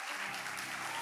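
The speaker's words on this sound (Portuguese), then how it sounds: "Será que você pode dar uma salva de palmas para a vida deles?" A church congregation gives a round of applause for its pastors, a brief, dense burst of many hands clapping, fairly quiet and even throughout.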